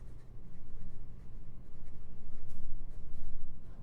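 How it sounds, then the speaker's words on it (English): A Scribo Puma Extra Fine Flex fountain pen nib writing on Tomoe River paper: close, continuous soft scratching in rhythmic strokes with brief pauses, and no talk. "we'll try a more flexible nib here. This is a Scribo Puma Extra Fine Flex."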